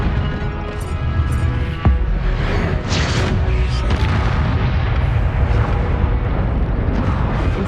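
A fire spell, Incendio, cast in Hogwarts Legacy, bursting in a loud, dense roaring whoosh with a sharp crack near the start and sustained fiery rumble throughout, no voices.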